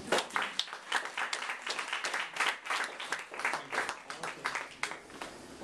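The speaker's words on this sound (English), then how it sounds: "please give Dominic a nice round of applause." An audience at a book talk on Italians in Chicago at Casa Italia applauds, a busy, steady run of clapping from a modest crowd, fairly soft and sustained for several seconds before tapering.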